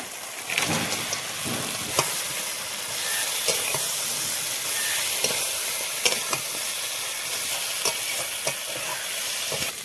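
Crabs hiss and sizzle loudly in a pan of oil-rich spiced masala with tomato paste, a continuous close frying sound broken by sharp crackles and stirring scrapes, with no one talking.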